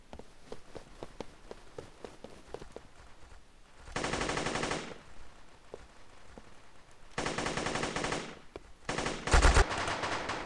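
Rapid bursts of automatic gunfire in the video game Guncraft, with quick single shots at first and then two sustained, dense volleys, fairly close and alone without talk.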